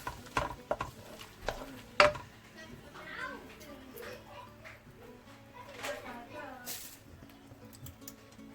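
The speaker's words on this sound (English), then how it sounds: "Stir well." Cumin and coriander powder being stirred in a cooking pan for chicken qeema, with spoon scrapes and soft sizzling under background voices, including a child's, and a few sharper clinks near the start.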